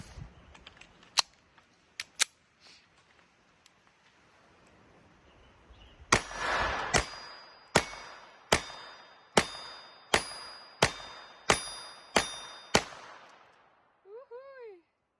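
A .22 caliber handgun firing newly bought rounds, a few sharp isolated shots and then a steady string of about ten loud cracks with metallic ringing, followed by a brief whine.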